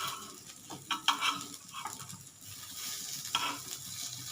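Fish swim bladder fritters fry in a pan with no oil, giving a soft crackling sizzle broken by a few sharp scraping and turning clicks, close and moderately quiet with no talk.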